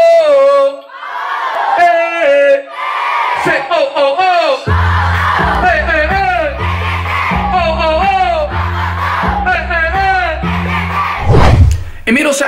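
A young crowd at a live kids' show in Lelystad cheers, whoops and shouts loudly and continuously, many voices blending with sustained chanting over a pounding musical backdrop.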